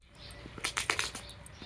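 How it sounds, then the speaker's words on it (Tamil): Sparrows flying around outside a hotel, with a quick cluster of wing flutters and a few faint high chirps nearby; no talking. "எங்கிட்ட பார்த்தாலும் குருவி தான் ஜாலியாக பறந்து சுற்றிட்டுருக்கு"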